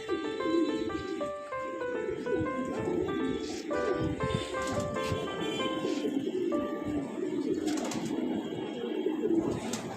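Pigeons at a home loft cooing steadily nearby, overlapping soft rolling coos repeating throughout against a low background hum, with no talk.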